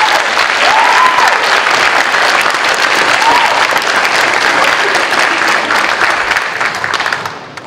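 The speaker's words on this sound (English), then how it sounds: "give our teachers a round of applause for all of their hard work" Audience at a middle school academic honors ceremony applauding the teachers, a loud sustained round of clapping from a large indoor crowd that fades slightly at the end.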